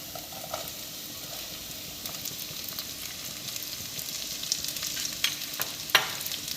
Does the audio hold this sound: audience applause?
no